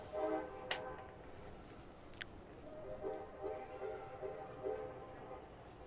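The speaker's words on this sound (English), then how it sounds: "Lots of train horn." Train horns blow in the distance beside an outdoor high school varsity boys soccer match: two sharp blasts, then a longer, softer series of horn tones that drift in under faint crowd noise.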